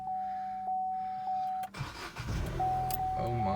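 A Vauxhall Corsa E starts with a beeping chime, a short starter crank and then the engine catching into a loud idle, the chime resuming afterward.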